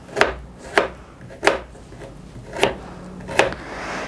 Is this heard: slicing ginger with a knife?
yes